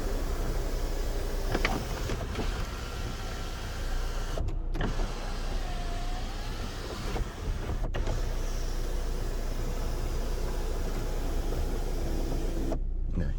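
Electric sunroof on a 2012 Kia K5 LPI Prestige sedan whirring as its motor runs, a steady mechanical hum inside the car broken by a few short pauses, close and fairly loud, with no talking.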